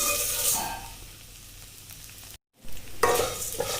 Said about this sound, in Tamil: நெய்யில் நல்லா வதக்கிடுங்க.